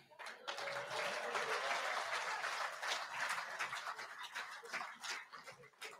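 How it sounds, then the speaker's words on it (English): Applause for a touch judge of the decade award at a Māori rugby league tournament anniversary, dense steady clapping for the whole stretch, moderately distant, with faint voices underneath. "Let's give a round of applause to Tama Pakinga."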